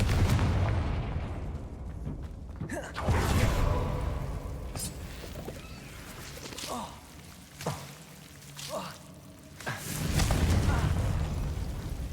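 Confringo fire spell blasts in the game Hogwarts Legacy, several loud booming explosive bursts with rumbling tails spread across the stretch, mixed with game effects and faint voices.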